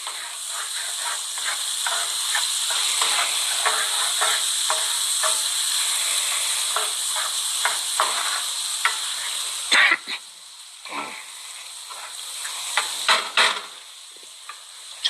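Ramp bulbs sizzle in a hot pan, a steady bright frying hiss with occasional scrapes and clicks of a spoon stirring them. After a short dip the sizzle returns, with more stirring taps close by.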